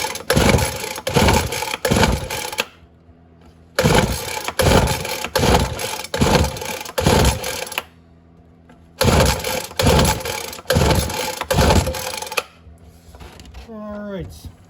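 A Ryobi gas leaf blower, RY09056 or RY09550, primed and on full choke, pull-started again and again: three bursts of rapid rattling pulls and brief firing separated by pauses, followed by a short rising mechanical whine.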